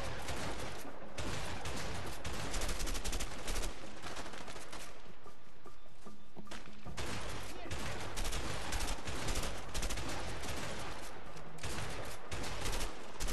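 Dense, continuous gunfire during a firefight in the video game A Way Out, with overlapping volleys and bursts filling the whole stretch without pause, loud and busy.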